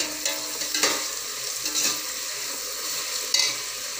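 Onions and tomatoes sautéing in a pan for home-style chicken biryani, with a steady hiss of sizzling and a few stirring scrapes close by.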